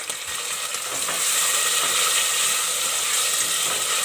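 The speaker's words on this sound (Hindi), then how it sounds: "लहसुन हल्का सा भूनने के बाद 2 अदद दरमियाने साइज़ के टमाटर डालेंगे।" Broad steady sizzling of medium-sized tomatoes dropped into lightly fried garlic in a pan for dal mash, filling the frame with a dense frying hiss that swells slightly after the first second, no talk.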